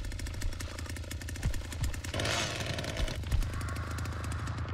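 A chainsaw in the Texas Chainsaw Massacre video game runs steadily with a rapid rattling, pulsing drone, surging louder for a moment midway, with no talk over it.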